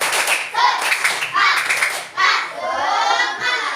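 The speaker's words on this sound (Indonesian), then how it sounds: "kelompok 1, 2 tepuk semangat" A class of fifth-grade children does a rhythmic spirit clap in groups, with bursts of patterned clapping mixed with young voices calling out. It is loud and close, and a stretch of children's chanting comes near the end.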